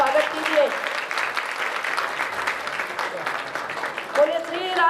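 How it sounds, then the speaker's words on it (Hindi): An audience at a religious Bhagavat Katha gathering applauds in a continuous dense patter of clapping, moderately loud throughout, with voices heard over it. "जोरदार तालियों से इनका स्वागत कीजिए।"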